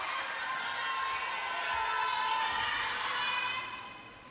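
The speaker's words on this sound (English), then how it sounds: "How about this start to the second from Shinsuke Tagami, which has got the crowd whipped up" A table tennis crowd at the WTT Champions in Yokohama roars in a broad, sustained wash of cheering that holds steady, then fades slightly toward the end.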